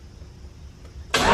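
A car engine cranks and tries to start after a mostly quiet stretch, with a sudden loud burst near the end.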